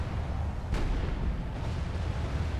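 A single heavy cannon or mortar report rings out in a Medieval 2 Call of Warhammer Empire battle, sharp and loud, with a fainter thump after it, all over a dense low rumble of ongoing fighting.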